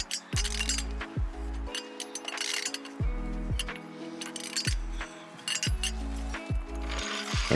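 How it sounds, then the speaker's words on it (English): A ratcheting socket wrench with a 23mm socket works the front wheel lug nuts on a 1990-1997 Jaguar XJ6, giving repeated metallic clicking bursts and clinks in an irregular rhythm against a steady low hum. "loosen the wheel lug nuts using a 23mm socket"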